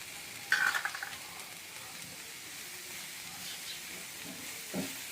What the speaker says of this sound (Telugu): వేసి ఇలాగా ఒక 10 సెకండ్స్ కలియపెట్టుకుందాము